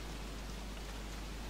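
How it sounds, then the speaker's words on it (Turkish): Rain in the video game Don't Starve Together makes a dense, even hiss of falling drops. It is a soft, steady wash with no talking over it. "bu yağmur, nefret ettim ya, bitmiyor da"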